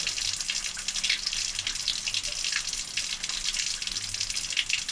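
Tap water runs and splashes steadily into a sink while a brush is rinsed of dish soap and old paint, a continuous close gush with shifting spatter and no talking.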